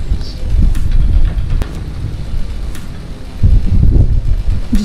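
Strong squall wind roars and buffets a sailboat under foul weather, a loud continuous rumble with gusty surges and no talk.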